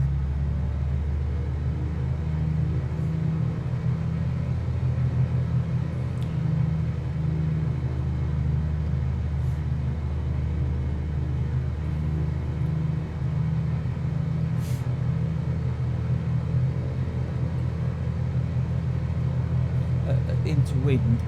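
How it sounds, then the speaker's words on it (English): A Cessna 182RG piston engine in a flight simulator game rumbles at a steady low idle while taxiing, a constant droning hum with faint ticks, talk heard over it. "Now we're going to taxi out slightly and check the brakes are working"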